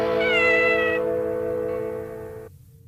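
A cat meows close and loud in one long, drawn-out, strongly pitched cry that holds for over two seconds, then cuts off into quiet.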